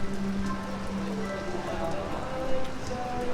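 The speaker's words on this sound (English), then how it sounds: "it just started pouring" Steady heavy rain pouring down at Universal Orlando, a constant dense patter on surfaces with faint background murmur.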